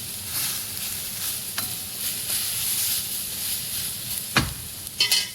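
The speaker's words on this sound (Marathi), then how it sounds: "उलट पुलट करून परतून घ्यायचं आहे" Soybeans stir-fried in a pan make a steady close sizzle, with a few spatula scrapes and knocks toward the end, no voices.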